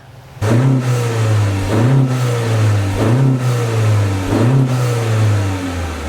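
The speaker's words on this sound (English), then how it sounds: "how does this one sound when in sport mode?" A 2022 Honda Civic sedan engine in sport mode revs up repeatedly, four rising-and-falling pulls over a steady idle hum, loud and close with no talking.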